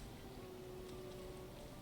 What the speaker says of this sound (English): Ah, and it's raining now.